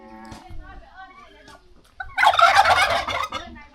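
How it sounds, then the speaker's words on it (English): A flock of turkeys in rural Laos gobbles, first with thin scattered calls, then a loud, rapid rattling gobble burst nearby that runs for over a second before trailing off. "A lot of turkeys."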